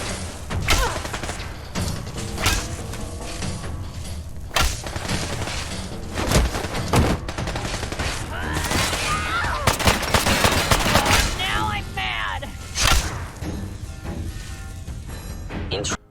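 Rapid laser gunfire and impacts in a Fallout 4 combat scene, with dense, continuous bursts of blasts and thuds layered over busy game audio throughout.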